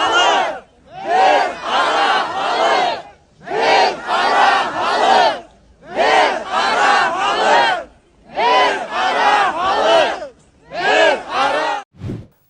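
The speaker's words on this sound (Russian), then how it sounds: "Здесь он раскачивает толпу." A large protest crowd in Baymak, Bashkortostan chants slogans in unison, loud rhythmic bursts of massed voices repeated in about six phrases separated by short pauses.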